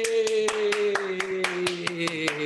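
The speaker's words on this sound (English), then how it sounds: "Let's all give them a big round of applause." Hands clap at home in a living room during an online fireside gathering, a few close individual claps in an uneven rhythm over a sustained tone, with no talk.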